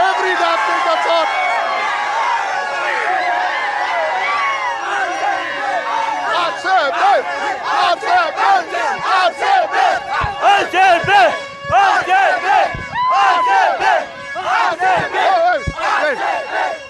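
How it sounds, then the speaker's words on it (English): A packed stadium crowd of RCB fans roars and chants in loud rhythmic bursts, many voices shouting together up close, with waves of cheering rising and falling. "It's absolute RCB madness out here. Full crowd out here."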